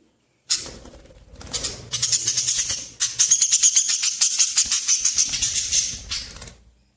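Pet birds in a cage, including white ones and lovebirds, give rapid bursts of high chirping and chattering calls, close and fairly loud, with short pauses between flurries.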